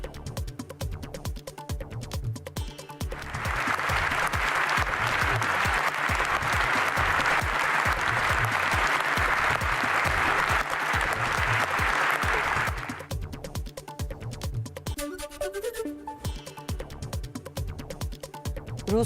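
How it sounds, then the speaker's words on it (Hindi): British MPs give Volodymyr Zelensky a standing ovation in Parliament, loud sustained applause swelling for about ten seconds amid a crowd, with quieter room noise before and after. "सांसदों ने खड़े होकर जेलेंस्की के लिए तालियां बजाई थी।"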